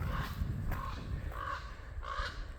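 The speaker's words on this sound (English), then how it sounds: "loud crow" A crow caws loudly four times in an even rhythm, fairly close, over a windy outdoor background on a rocky ridge hiking trail.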